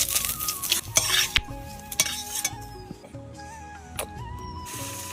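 Dried red chilies fry in oil, with a brief crackle over metal clinks and scraping stirs of a spoon against the pan, then quieter intermittent clinking.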